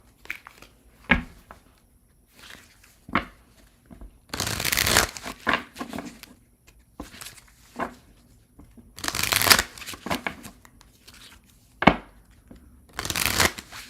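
Tarot cards shuffled in several quick riffling bursts, separated by pauses with soft taps and handling noises, close and crisp.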